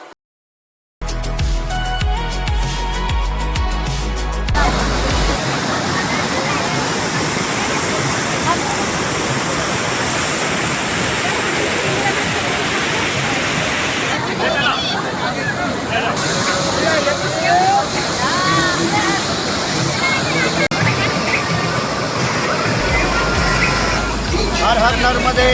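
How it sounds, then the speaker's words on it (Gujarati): The Dhuandhar waterfall, where the Narmada river plunges at Bhedaghat near Jabalpur, roars loudly and continuously close by as a dense, broad rush of falling water, with a crowd's faint babble mixed in. "અહીંયા નર્મદાનું પાણી એટલું ઉપરથી નીચે પડે છે કે પુષ્કળ પ્રમાણમાં એનો ધુમાડો ઉઠે છે"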